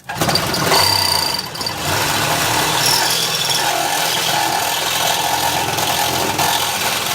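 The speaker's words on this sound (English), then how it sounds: "So now I'm just cutting through the actual frame rail with the Sawzall here." A Sawzall reciprocating saw cuts through the steel frame rail of a 1990 Nissan 240SX under rust repair, a loud, close, continuous buzzing rasp that never lets up.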